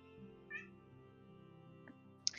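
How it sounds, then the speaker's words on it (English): A pet cat meowing indoors, one drawn-out meow early on and a sharper cry at the end, over a quiet steady electronic hum, with no talk. "You can hear my cat."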